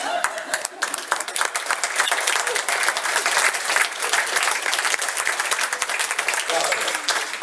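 An audience bursts into sustained applause, dense clapping running steadily for several seconds at a close, loud level, with voices faintly mixed in.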